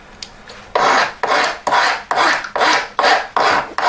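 A big file rasps across the corners of metal wire being thinned for a draw plate while making a coil ring: about seven loud, close, even strokes in a steady rhythm, with no talk.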